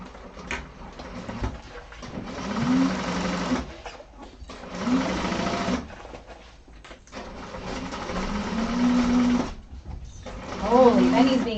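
A sewing machine stitches a bag lining, running in several loud bursts of rapid mechanical whirring separated by short pauses, with a voice heard faintly at times.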